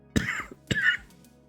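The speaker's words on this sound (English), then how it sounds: "excuse me before I had that coughing attack" Two sharp coughing bursts close to the mic, a second apart, each a harsh broadband rasp, with quiet room between them.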